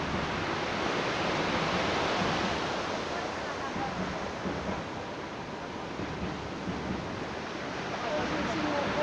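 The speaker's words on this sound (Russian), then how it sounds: "Очень сильные волны." Strong sea waves break on a shore with breakwaters, producing a steady, loud roar of surf and wash that continues without a pause, blended with wind noise on the microphone.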